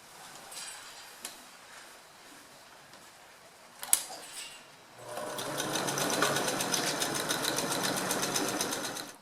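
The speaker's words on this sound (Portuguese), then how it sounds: "Agora que eu costurei" A sewing machine stitching a cushion lining starts after a few quiet seconds of faint handling, then runs steadily and fairly loud in a fast, even mechanical rhythm until the end.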